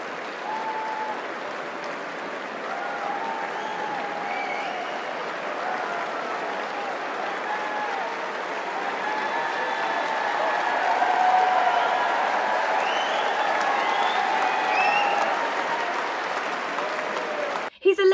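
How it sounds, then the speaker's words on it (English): A large Wimbledon crowd applauds David Attenborough with sustained, dense clapping for about eighteen seconds, swelling slightly midway before cutting off abruptly. "a big, huge applause for someone who entered Wimbledon"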